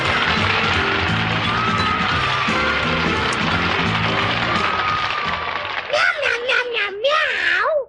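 Puppet cats in a children's TV show meow, voiced by performers imitating cats: a run of several wavering, sing-song meows near the end, following a stretch of bouncy background music.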